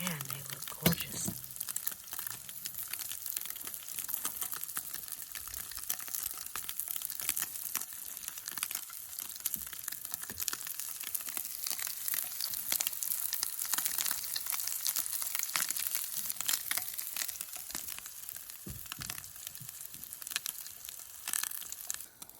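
Crab cakes frying on an outdoor cooker on New Year's Eve, giving a faint, continuous crackling sizzle with scattered pops and rustles over about twenty seconds, set in an open-air space.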